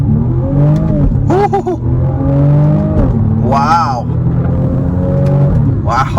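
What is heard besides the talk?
2022 BMW M235i Gran Coupe accelerating hard from a stop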